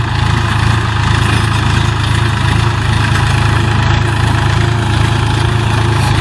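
A tractor engine drags a cultivator through hard, dry field soil, giving a loud, steady low drone that runs unbroken from start to finish with no voices.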